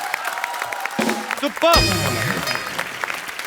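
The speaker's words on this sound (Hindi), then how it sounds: "तालियां जोरदार" Applause and cheering from a TV comedy show studio audience break out mid-clip, with people talking and exclaiming over the top.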